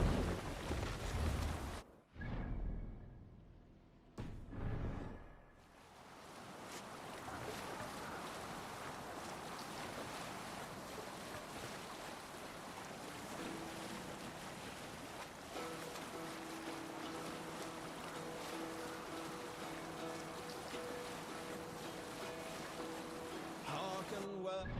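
A sailing ship crosses sea waves in the video game Assassin's Creed Valhalla. Loud bursts open the scene, then a steady wash of wind, water and creaking hull sound holds at an even level for a long stretch.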